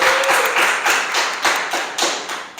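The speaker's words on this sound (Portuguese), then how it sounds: "3, merece uma salva de palmas" Applause at a Brazilian talk-show style gathering celebrating a third-place award, heard as a steady wash of hand claps with periodic louder swells, fairly close and filling the whole stretch without speech.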